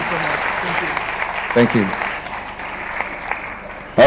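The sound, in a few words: audience applause at a university opening ceremony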